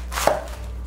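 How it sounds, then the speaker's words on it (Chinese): A knife slices through a head of cabbage being cut into slices for Taiwanese pickled cabbage, one crisp close chop against a board with a short crunch, loud and alone. "高丽菜切片状"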